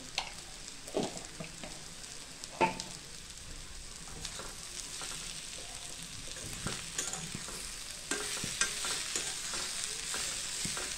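Dried salted Bombay duck (bombil) stirred into masala frying in a pan makes a continuous sizzle with repeated scraping and clanking strokes of a spoon, the frying growing louder toward the end and no talk heard.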